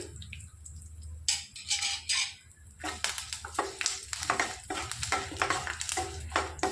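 Curry leaves and asafoetida frying in oil for a tempering, with soft sizzling under irregular scraping stirs that start quiet and grow busier and closer partway through.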